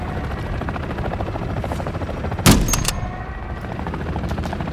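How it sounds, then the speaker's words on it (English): Mounted machine gun on an armored vehicle in MW3, a sharp loud burst of fire cutting through a steady droning engine rumble, then a few quick follow-up shots fading into the continuous background roar. "John got a mounted MG coming your way on an armored vehicle"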